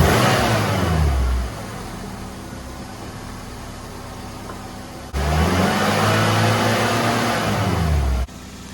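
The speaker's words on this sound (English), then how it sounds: "it's running now, and we're gonna see if it'll go into gear and engage gears and move" A 1.5-litre Suzuki Swift engine runs after a clutch replacement, revving up then settling to a lower idle, then revving again before dropping off; loud, close and without speech.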